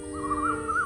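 A crow in an animated children's story gives a drawn-out, wavering caw, moderately loud and alone, lasting under a second.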